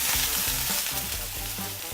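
Food sizzles and crackles steadily in a hot frying pan, a close, continuous hiss with small bursts of spattering and no voices.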